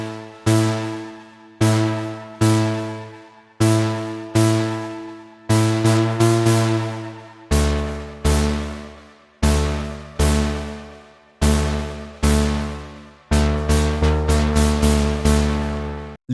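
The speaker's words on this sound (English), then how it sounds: "It also has an interesting crystallize or kind of reverse delay effect" A Serum 2 synth lead preset called Ritual, with a crystallized reverse delay effect, plays a melodic techno line of bright plucked notes in a steady rhythm, each note swelling and decaying, alone and upfront.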